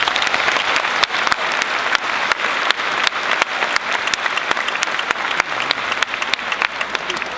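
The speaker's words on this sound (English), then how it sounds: "Let's give them a round of applause." Sustained audience applause at a high school graduation ceremony: dense, steady clapping from a large crowd filling the space throughout.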